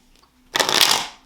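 A deck of tarot cards is riffle-shuffled once close by, a crisp, dense burst of fluttering card noise lasting under a second after a quiet pause.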